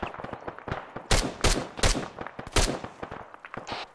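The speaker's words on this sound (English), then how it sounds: "Copy, we're shooting already." Gunfire in the military shooter Arma 3 during a counterinsurgency mission: irregular single shots and short bursts, several loud near cracks among fainter distant reports.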